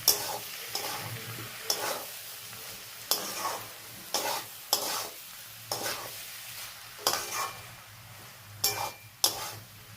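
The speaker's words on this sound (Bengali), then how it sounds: "দিয়ে একটু নাড়াচাড়া করে নিই" Egg chow mein with tomato sauce, soy sauce and seasoning being stirred in a pan, the utensil scraping through the noodles in repeated sharp strokes every second or so over a low steady sizzle, close and alone with no talk.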